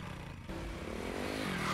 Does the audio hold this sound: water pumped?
no